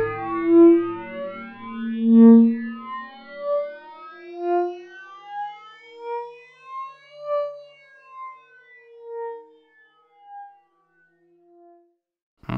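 Granular synthesis patch with a pitch envelope. A cloud of short, echoing grains sweeps in pitch, with pulses that start dense and loud and then thin out and fade over several seconds. It ends in a sudden click.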